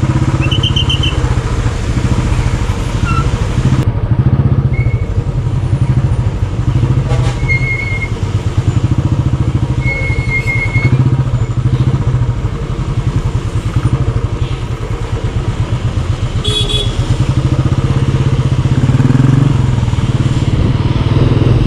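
Motorcycles ride along a rainy forest road, a steady loud engine drone close by with rattling and clatter, passing traffic and occasional horn-like tones, with no talk.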